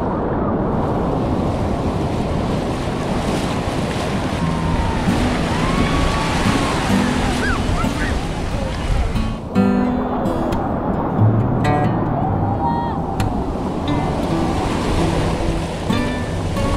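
Ocean surf washing onto a beach in Cape Verde makes a loud, constant roar of waves, with steady wind buffeting the microphone throughout.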